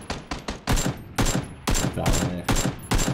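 Rapid bursts of gunfire from PUBG, several sharp volleys in quick succession over about three seconds, loud and close, with a brief spoken word between them.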